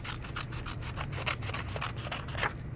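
Paper strips for a kindergarten spider craft are cut with scissors, giving a quick run of rhythmic, close snips and rubbing strokes over a low steady hum.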